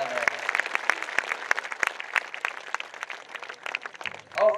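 A large crowd at a political rally claps loudly and steadily throughout, a dense wash of applause that swells slightly near the end.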